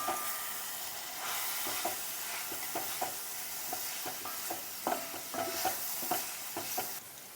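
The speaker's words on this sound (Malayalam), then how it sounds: "ഇതൊന്ന് ഇളക്കി കൊടുക്കാം." Clam meat being stirred with masala in a pan, with a continuous soft sizzle and repeated scraping and tapping strokes of the spoon, close and moderately quiet with no voices.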